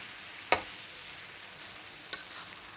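Grated pumpkin frying in a pan for halwa, a soft continuous sizzle close by, broken by two brief sharp scrapes of stirring.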